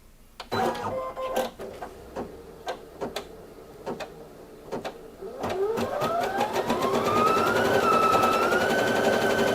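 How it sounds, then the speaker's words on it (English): A Brother Innov-is 870E embroidery machine starts with a series of clicks and knocks, then ramps up into a fast, steady mechanical whir of stitching with a rising motor pitch, close and clear. "the machine is currently stitching at 850 stitches per minute"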